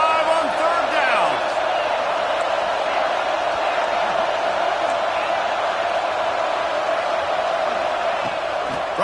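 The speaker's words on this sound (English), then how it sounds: "Hang on, Swoopy, the Buckeye crowd alive on 3rd down." Ohio State Buckeyes football crowd on a third down, a dense, steady roar of cheering that fills the stadium without pause from start to finish.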